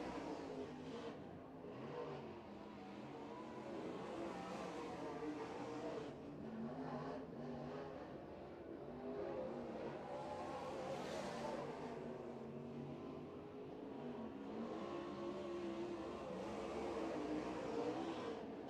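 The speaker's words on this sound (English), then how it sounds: "Last cars on the racetrack." Modified race cars roar around a dirt racetrack at night, a continuous distant engine drone that swells and fades as cars pass, heard faintly with no talk over it.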